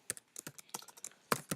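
Fingers typing on a computer keyboard, a quick irregular run of light clicks and taps, close and fairly quiet, with no voices.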